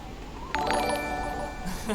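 Several electronic notification chimes and pings sound in quick succession over a low background hum, with tones stacking up one after another.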